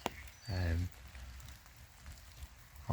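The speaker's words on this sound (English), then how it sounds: "So you might hear some pitter patter" Light rain patters steadily on an umbrella close by in the city, a soft continuous crackle, with brief bursts of voice at the start and end.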